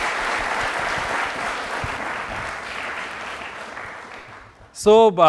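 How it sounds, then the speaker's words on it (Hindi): A college audience at a televised quiz-style program in Jaipur applauds the guest, a full burst of clapping that slowly thins and fades, followed by a short loud tonal sound at the very end. "प्लीज़ एक बार जोरदार तालियां बजाएं मैम के लिए"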